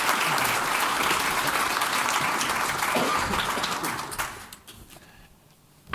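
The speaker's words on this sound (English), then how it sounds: "Let's give this panel a round of applause." An audience applauds a panel at a rivers and parks design event, with steady clapping that holds for several seconds and then fades out toward the end, leaving quiet room tone.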